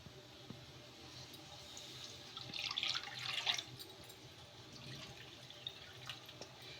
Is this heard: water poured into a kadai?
yes